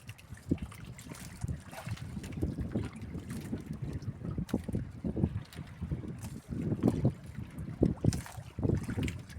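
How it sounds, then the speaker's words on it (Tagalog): Gusty wind buffets the microphone in rumbling bursts, with faint splashing water beneath, steady and fairly close throughout. "Mahangin mga idol, mahangin."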